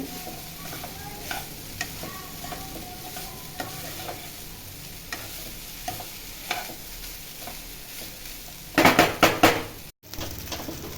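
Vegetables frying in oil for veg fried rice while being stirred, with intermittent clinks and scrapes of a utensil against the pan over a low sizzle, then a louder burst of clatter near the end.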